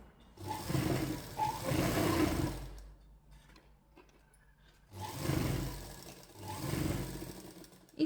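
A sewing machine stitching a katori blouse runs in two loud whirring bursts of a few seconds each, separated by a quiet pause with faint handling clicks, close up and with no speech.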